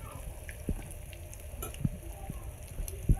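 Spiced black-eyed pea curry fries in a pan, a soft steady sizzle broken by several quiet spoon scrapes and stirring knocks, with no talking.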